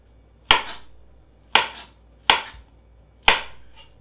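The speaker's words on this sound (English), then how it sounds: "I'm going to cut my bananas on a little bit of an angle" Knife cutting sweet yellow bananas into thick angled slices on a cutting board, four sharp separate chops that land close and clear in an otherwise quiet room.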